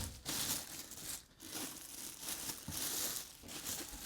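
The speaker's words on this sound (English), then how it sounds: "Giant plastic bag whose opening I cannot figure out." A giant plastic bag from the packaging of a Thermaltake Core V31 ATX mid-tower PC case crinkles and crackles up close in continuous bursts, with brief pauses as it is handled.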